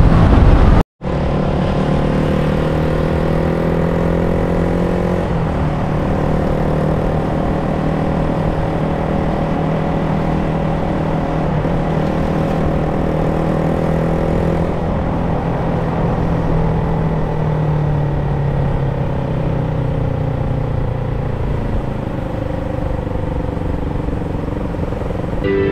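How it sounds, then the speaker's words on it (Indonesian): A Honda CBR motorcycle ridden along Jalan Pasteur in Bandung gives a continuous engine drone with shifting pitch as it accelerates and eases off, loud and near throughout, after a brief cutout at the start. "Nah, kita akan menggunakan motor CBR ini."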